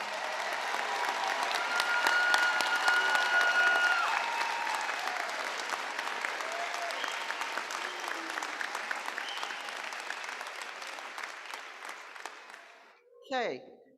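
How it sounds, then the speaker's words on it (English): A commencement crowd at WVU Tech applauds the graduates in a long, full round of clapping that peaks early, then slowly thins and fades before a voice cuts in at the very end. "let's give these wonderful graduates another round of applause"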